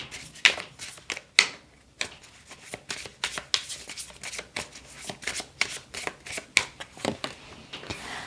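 Tarot cards are shuffled close up, crisp riffling bursts and soft slaps repeating in an irregular rhythm, with no talking.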